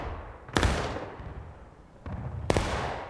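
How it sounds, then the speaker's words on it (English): Musket volleys crack out in the multiplayer game Battle Line Networks, two loud sharp massed bursts about two seconds apart, each trailing into an echoing rumble, with scattered distant shots between. "Solid, another solid volley there."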